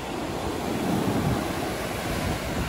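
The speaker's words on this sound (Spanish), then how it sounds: "las olas son increíblemente fuertes" Strong ocean surf rolls in steadily at San Lorenzo beach in Manta, Ecuador, a loud continuous roar of breaking waves mixed with wind buffeting the microphone, with no voices heard.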